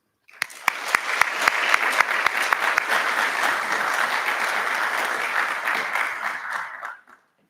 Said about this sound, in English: if you would just welcome Instructor Carrera with a round of applause for the job he's done with this group of students.